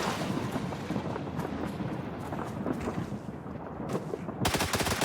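Gunfire from two players in the video game PUBG, a string of rapid shots with wind noise, ending in a louder, denser burst of automatic fire near the close, no speech.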